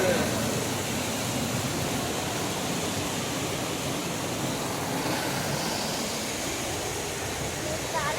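Water pours steadily in a continuous rushing stream near the Swayambhu Shiva lingam in Kathmandu, Nepal, a dense unbroken hiss close by, holding even in level from start to finish with no voices over it.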